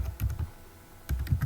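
A computer keyboard being typed on while entering a web address, a few quick clustered key clicks, a brief pause, then another short burst of taps, close and moderately loud.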